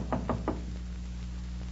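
Three sharp knocks on a hotel room door in quick succession, fairly near, followed by a quiet pause with faint background hum.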